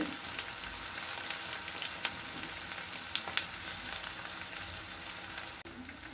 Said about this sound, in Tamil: நல்லா வதக்கி விட்டுக்குருவோம்